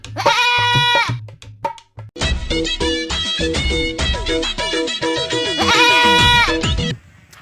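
A goat bleats loudly and close by, giving a long quavering call, then after a short pause a run of repeated wavering bleats that continues almost without a break for about five seconds.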